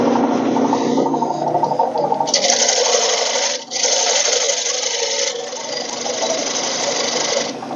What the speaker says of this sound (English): I'm just going to use this small 3/8 inch bowl gouge to kind of come in here and work away the foot